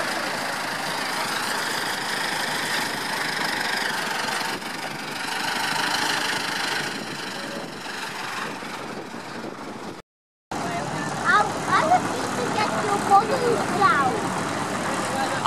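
Engine of a 1969 former fire engine idling on a vintage vehicle run, a steady mid-pitched rumble running throughout with a brief break, people talking over it.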